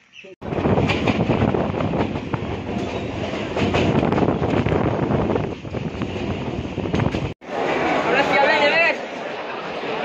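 Riding a train toward Sealdah station in India, a loud steady rumble of wheels on rails with rushing wind noise fills the ride, briefly cutting out before resuming.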